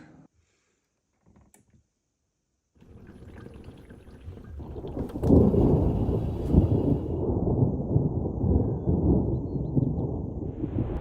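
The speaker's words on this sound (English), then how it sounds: "Another storm is clearly on its way." After near silence, a deep rumble of thunder swells up and rolls on continuously, low and heavy, with a faint rain-like hiss.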